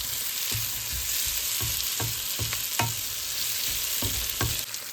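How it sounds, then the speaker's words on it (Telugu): Cashews and paneer simmering in a masala gravy in a pan, a steady close sizzle and bubble with repeated scraping stirs of a spoon against the pan at an irregular rhythm, no voices. "సో ఇప్పుడు అవి కూడా వేసిన తర్వాత బాగా కలిపెట్టి ఒక 5 నిమిషాలు బాగా మగ్గనివ్వాలి"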